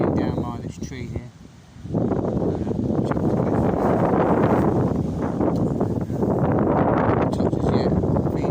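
Gale-force wind at a fishing lake buffets the microphone with a loud, continuous roar that swells and dips, after a brief moment of voice at the start.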